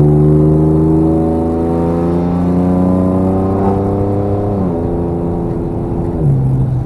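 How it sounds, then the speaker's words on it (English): A 2003 Ford Sport Trac with a custom full exhaust revs loudly under hard acceleration, its engine note climbing steadily through the gears with brief drops at shifts, close and continuous with no talking. "it gets loud when you actually put your foot on the fun pedal"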